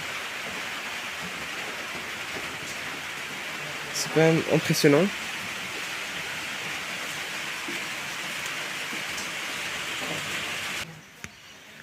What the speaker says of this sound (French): La pluie dans une zone tropicale comme ça.